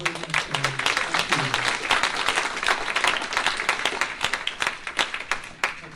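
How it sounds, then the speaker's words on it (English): Audience applause at a grassroots Republican meet-and-greet in Oklahoma, a steady wash of clapping from a room of people lasting several seconds, with a few sharper individual claps and faint voices mixed in. "Charles deserves a round of applause"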